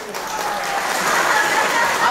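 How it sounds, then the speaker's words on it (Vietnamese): Applause from a crowd at a company year-end shareholders' event swells and holds steady, a dense patter of clapping filling the room. "Xin một tràng pháo tay ạ."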